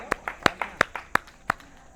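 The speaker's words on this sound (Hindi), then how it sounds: "बहुत सुंदर, तालियां बजाओ" Students in a Prakrit language class clap together, a close, steady run of about eight sharp claps at an even pace.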